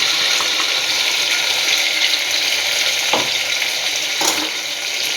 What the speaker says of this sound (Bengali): এবার আমি এই পেস্ট করা মশলাটা দিয়ে দেবো